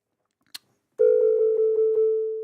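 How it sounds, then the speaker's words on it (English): A pure sine tone from the King of Digital synth on iOS starts after a brief click and holds steady and loud, with a slight pulsing ripple as it slowly fades. "I've just got a instance of King of Digital here with just a sine wave running."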